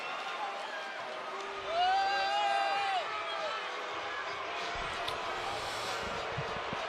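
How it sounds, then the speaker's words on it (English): Boxing crowd applauds and cheers after the Devin Haney vs Vasyl Lomachenko fight in May 2023. A steady arena roar swells briefly, then settles beneath a commentator's talk. "Vasyl Lomachenko takes the crowd's applause tonight"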